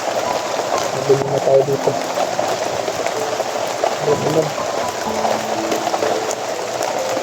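Very heavy rain pours down in a steady, dense hiss with scattered patters, while a person talks over it.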